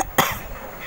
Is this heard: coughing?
yes